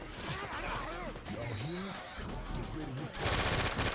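Rapid automatic gunfire in a PC shooter video game, a steady run of shots with crashes and impacts, overlaid by players talking throughout.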